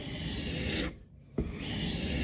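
A knife blade strokes along a sharpening stone outdoors, a close, dry rasp that runs continuously, breaks off for a half-second pause, then resumes with a sharp onset.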